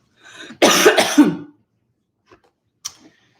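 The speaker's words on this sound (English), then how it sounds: "Gotta clear my throat." A short throat clear with a rough, broadband burst, followed by a couple of faint small clicks and a soft afterthought.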